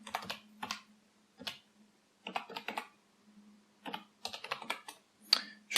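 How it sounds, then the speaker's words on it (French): Typing on a computer keyboard: quiet, close clusters of key clicks in uneven bursts with short pauses between them, alone over a faint steady hum. "je vais taper Feature Driven Development"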